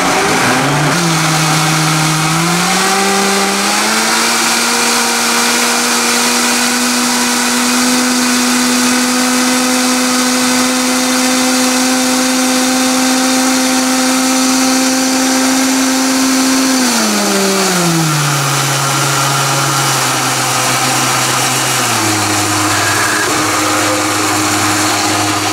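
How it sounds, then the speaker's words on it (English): A blender whirring through watermelon for a purple smoothie, a loud, steady motor whine that climbs in pitch, holds high for a long stretch, then drops back down near the end, close and continuous. "I might as well show you guys the blending process"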